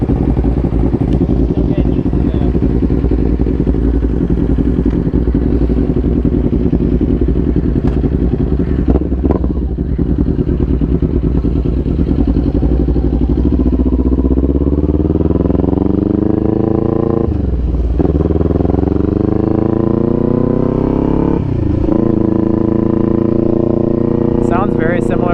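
A 2021 Kawasaki Z400 motorcycle with a Hindle performance exhaust runs loud and close throughout, revving up and dropping back several times while people talk over it.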